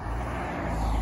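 Passing road traffic swells in a continuous low roar, a vehicle drawing nearer and louder toward the end, with no talking over it.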